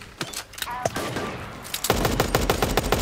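Rapid automatic bursts from a Tommy gun in Super Animal Royale, dense and loud, starting after scattered shots and continuing steadily to the end.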